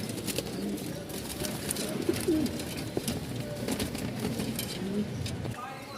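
Pigeons cooing among about fifty-five birds kept for sale, soft low coos and rustling at moderate distance, with someone talking and other background noise over them.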